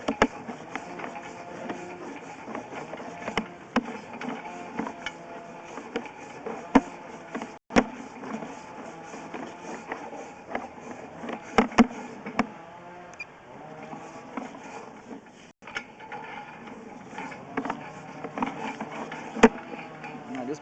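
A sewer inspection camera is drawn back slowly through a pipe in a crawl space, with a steady mechanical whir and rubbing scrapes, plus scattered sharp clicks and knocks, continuous and moderately close throughout.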